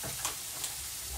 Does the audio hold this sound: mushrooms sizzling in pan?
yes